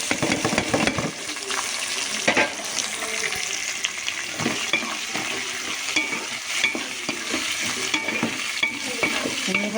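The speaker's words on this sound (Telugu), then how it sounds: "ఉల్లిపాయ పచ్చిమిర్చి వేసేసుకుందాం." Onions and green chillies frying in oil in a pan, a continuous crackling sizzle with repeated scraping and clinking as they are stirred, close and steady throughout.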